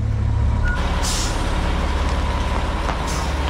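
A truck backs up on snow and ice, a heavy low engine drone with a sharp air-brake hiss and faint beeps, loud and close throughout, with no talking.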